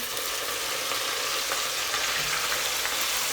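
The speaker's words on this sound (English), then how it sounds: "So it's been frying for like 2 minutes in my palm oil." Continuous hissing sizzle of sliced onions frying in hot palm oil, steady and close, with no voices.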